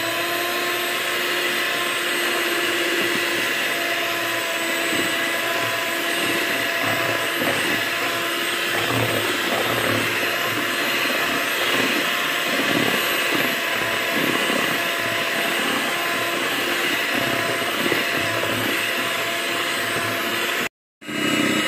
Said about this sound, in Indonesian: Gamit po ang mixer, hand mixer. So kailangan i-mix po natin ng maayos hanggang maging foam po siya guys.